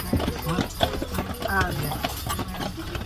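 Hooves clip-clop in a steady rhythm as a horse pulls a buggy on car-free Mackinac Island, close and clear beneath people talking.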